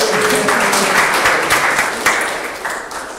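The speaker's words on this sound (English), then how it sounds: "give yourself a round of applause if you've gotten something to work" Audience applause at a tech skills workshop session, a dense steady patter of many hands clapping, fairly loud and close, fading slightly toward the end with no talk over it.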